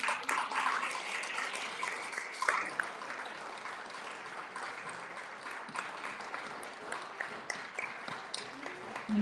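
An audience claps steadily at a Margazhi Vizha 2022 cultural event, a soft, moderately distant wash of applause with individual claps popping out, fading slightly and swelling again near the end, with faint voices underneath.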